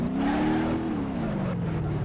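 A dragster car engine in the BeamNG.drive video game revs hard, a loud droning roar that rises and then slowly falls in pitch, steady and close throughout.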